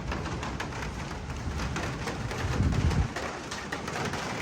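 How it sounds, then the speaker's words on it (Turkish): Steady rain falling outdoors during a sudden storm, a dense continuous hiss with a soft low rumble swelling briefly partway through. "Haydi bakalım başladı yağmur."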